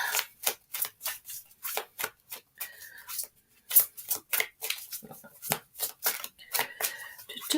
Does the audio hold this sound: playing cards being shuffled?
yes